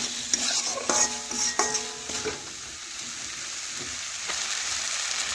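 Potatoes sizzle with spices in a pan for egg curry while a spoon scrapes and stirs in a few sharp strokes early on, then the frying settles into a softer, steady hiss.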